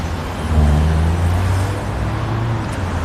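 Steady road traffic with low rumbling engines of cars and heavier vehicles passing, a continuous loud drone with no talking.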